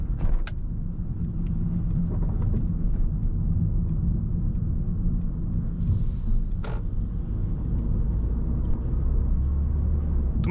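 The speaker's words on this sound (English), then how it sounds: "So now I just press here the reset button and the car starts to accelerate" A 2023 Mercedes A-Class AMG facelift pulls away and accelerates on its own, a steady low engine and road rumble filling the cabin, with faint clicks over it.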